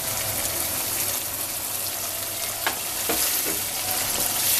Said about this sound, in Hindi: 1 से 2 मिनट तक इसे भी फ्राई कर लेंगे